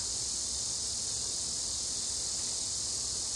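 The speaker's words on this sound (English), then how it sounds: "They're getting a little quieter." A constant shrill buzzing of cicadas fills the air, even and unbroken throughout.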